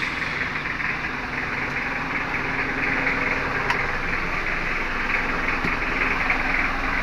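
Mitsubishi L300 van engine idling steadily with a continuous low rumble and faint vibration, close by, no voices.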